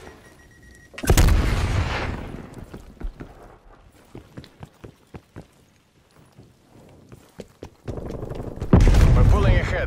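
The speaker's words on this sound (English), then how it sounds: "Stun grenade out." Stun grenade going off in Call of Duty Cold War during a team deathmatch, a loud blast followed by a ringing tail, then a scatter of sharp gunshots and another heavy burst near the end, with speech mixed in.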